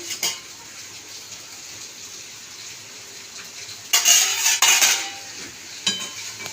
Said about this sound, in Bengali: এবার আবার আমি ঢাকাটা খুলে দিচ্ছে